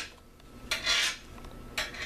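Utensil scraping and clinking against a bowl while tuna is mixed at home, two short bright bursts of scraping with quiet pauses between, close and fairly soft, with no talking.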